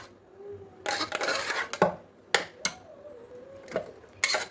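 A metal ladle clanks and scrapes in a pot while stirring and mashing cooked dal, giving several irregular close knocks and scrapes with quiet gaps between them.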